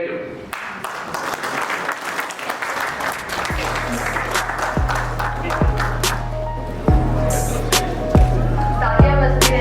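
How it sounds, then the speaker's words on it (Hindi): Audience applause at a JCI award function after a president's oath, a dense wash of clapping with rhythmic low thumps of music beating underneath in the second half. "तालियां बजती रहनी चाहिए।"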